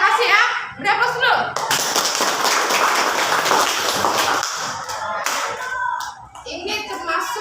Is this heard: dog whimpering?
no